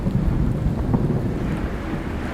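Deep rolling thunder rumbles steadily with rain hissing underneath, a dense low boom that stays loud without pause for the short stretch.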